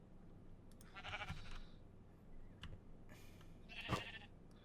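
Sheep bleats from the video game Minecraft, two or three distinct bleating bursts spaced apart, moderately loud over a quiet background with a couple of soft thuds, no talking.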